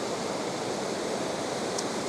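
Steady, uniform rush of a waterfall, moderately quiet and continuous with no voices or breaks.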